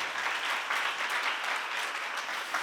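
A church seminar audience breaks into steady, dense applause, many hands clapping at once in an even wash of sound that lasts throughout.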